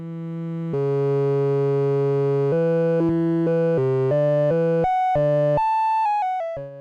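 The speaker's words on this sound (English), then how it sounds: "Now let's try changing the pitch of our sine wave via the keyboard." A synth sine wave from a dual universal slope generator module, its pitch stepped up and down from a keyboard in a series of held notes with brief gaps, steady and clear with no talking.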